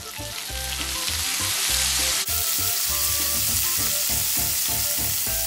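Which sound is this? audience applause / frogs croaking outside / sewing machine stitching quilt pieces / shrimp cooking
shrimp cooking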